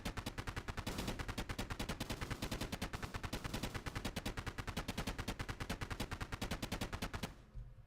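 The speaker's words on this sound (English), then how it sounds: "In space, you can hear explosions." Rapid explosions from an Asteroids 3D space shooter built in Unity, firing in a fast, even machine-gun rhythm for about seven seconds, loud and close, then cutting off abruptly.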